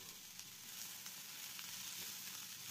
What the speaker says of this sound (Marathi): परत मिक्स करून परत आपल्याला सोनेरी रंगावर कांदा हा परतून घ्यायचा आहे.